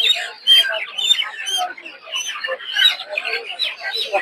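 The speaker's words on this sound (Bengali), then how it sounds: "এখানে কিছু টাইগার মুরগি আছে" Young tiger chickens clucking and squawking in a crowded poultry market, many birds calling at once in a continuous, fairly loud chatter close by.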